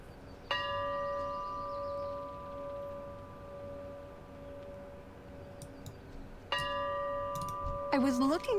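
Town bells in the video game Bastion ring out in two struck peals, each starting sharp then sustaining a long resonant hum with bright overtones, the second arriving after a long fade, with faint clicks and a brief voice near the end.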